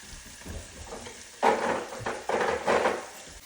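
Curry leaves and spices fry in a pan for a chicken curry, giving a steady crackling sizzle broken by several louder bursts of stirring and scraping near the pan.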